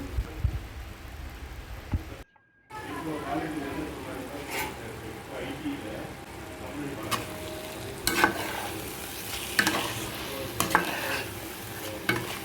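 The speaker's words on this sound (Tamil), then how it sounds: "நல்லா கலரி விடுங்க." Egg pepper masala sizzles gently in a pan while being stirred, with scattered scraping clicks from the spoon, a brief dropout near the start and a few faint background sounds.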